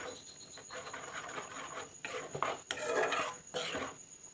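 Soft scraping and clinking of a spoon stirring curry in a metal pot, irregular strokes at moderate volume, no talking.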